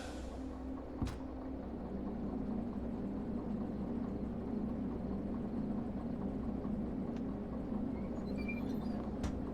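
A freight train rumbles along steadily in the Derail Valley train simulator game, a continuous loud engine drone and rolling noise with a brief clank near the start and faint squeaks later.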